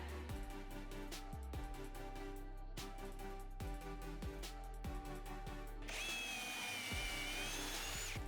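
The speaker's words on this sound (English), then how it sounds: "I drilled 3/4 inch pocket holes into the ends of each" A power drill bores 3/4 inch pocket holes into the ends of plywood strips for a scrap wood storage cart, running in repeated bursts of steady whirring with a higher tone near the end, close and loud with no talk.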